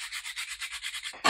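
Sandpaper rubbed by hand over the corners of a plastic piece to round them, a quick run of about a dozen even back-and-forth scratchy strokes, close and clear, ending in one harsher, louder scrape.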